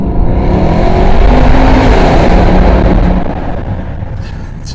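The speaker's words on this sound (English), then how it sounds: "this is like full throttle now, and it is quite loud" Jaguar XK8 engine pulled at full throttle with a window down, a loud, dense roar that holds steady at close range and then eases off slightly toward the end.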